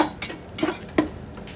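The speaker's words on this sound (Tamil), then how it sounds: "கலந்து நல்லா கிளறி விடுங்க." Vegetable rice with spices being stirred in a pot: a few distinct spoon-on-metal clinks and scrapes, close and moderately loud, with quiet gaps between strokes.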